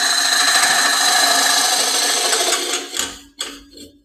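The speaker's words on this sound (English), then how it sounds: "this little scraper, teardrop scraper, takes out a lot of the tool marks." A teardrop scraper cuts against spinning wood on a lathe, giving a continuous close scraping hiss over the motor's hum, which then breaks into a few short scrapes as the tool lifts away.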